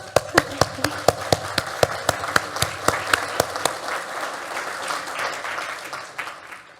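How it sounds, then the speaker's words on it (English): A keynote audience at a security conference applauds, with a few sharp, closely spaced claps standing out at first before the clapping blends into a steady wash of applause that slowly fades. "I guess I want you to give yourself a round of applause"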